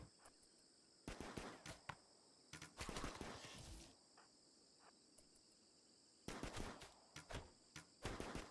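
Gunfire in the colony-building video game RimWorld comes in rapid bursts of shots over a steady insect-like background chirp, with quiet gaps between volleys and no talking.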